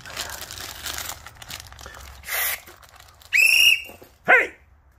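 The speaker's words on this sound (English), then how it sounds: "It's like a police whistle." A police-style whistle turned up among the contents of a storage unit gives a couple of short, shrill blasts, with rustling and crinkling of handled items around them.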